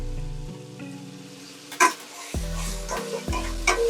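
Turmeric and chili powder fry in a pan as a spoon stirs and scrapes through them in several loud bursts over a low sizzle.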